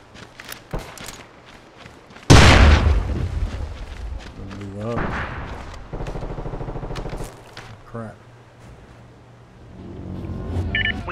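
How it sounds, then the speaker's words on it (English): A bomb explodes in the SOCOM Confrontation video game with a single loud boom that fades into rumbling debris. Scattered game noises and movement sounds follow. "Oh, that's our actual bomb."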